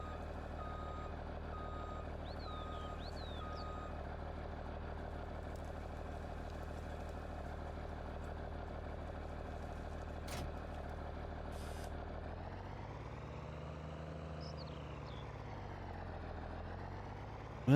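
A tractor engine in Farming Simulator 19 drones steadily at idle, with repeated reversing beeps, a short tonal whine and an engine pitch that sweeps up and down near the end; no one speaks.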